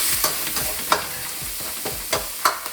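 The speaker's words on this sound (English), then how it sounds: "You can use the bottom of your ladle to mix it around." A ladle stirs mapo tofu sauce with added oil in a hot wok, giving loud sizzling frying with repeated scraping strokes at an uneven rhythm, close and without talk.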